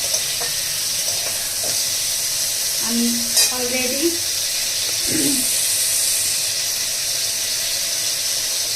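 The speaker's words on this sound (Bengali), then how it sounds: "সাদা তেলের মধ্যে একটা তেজপাতা, একটা শুকনো লঙ্কা, একটু মৌরি, একটু রাঁধুনি দিয়েছি" Bay leaf, dry red chilli, fennel and radhuni seeds sizzle in white oil in a wok, a steady fine hiss with occasional stirring clinks; someone briefly speaks over it.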